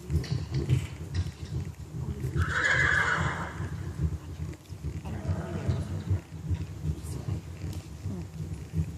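A ridden horse lets out one clear neigh partway through, set against steady hoofbeats and movement noise throughout, fairly close.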